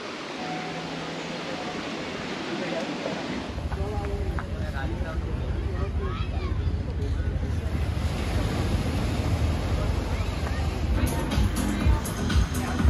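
Surf washing onto a small private beach on a rocky shore at Palolem, Goa, a steady roar of waves with wind buffeting the microphone, loud and continuous.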